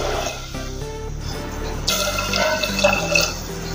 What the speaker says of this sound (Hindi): इसमें पानी डालेंगे